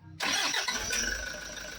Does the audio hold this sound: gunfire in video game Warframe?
no